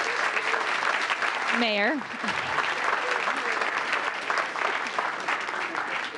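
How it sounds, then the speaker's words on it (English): An audience at a town council meeting applauds loudly for group 3, a dense, even wash of clapping throughout. A voice briefly cuts in partway through. "Let's give group 3 a big round of applause."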